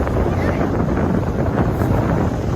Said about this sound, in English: You know that this wind is non-stop